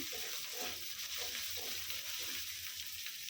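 Sliced onions fry in hot oil for a Bengali tuna fish curry, a steady close sizzle with soft stirring scrapes and faint rhythmic pulses running evenly throughout.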